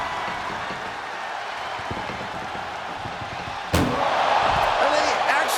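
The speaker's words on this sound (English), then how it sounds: "Trying to at least slam one door shut." An ambulance door slams shut in the WWE 2K25 wrestling game: one sharp, loud bang breaks through steady arena crowd noise about two thirds of the way in, and the crowd swells afterward.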